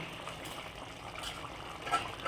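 Chicken curry simmers with added water in a pan, giving a quiet, steady bubbling hiss with a few faint pops and no talk over it.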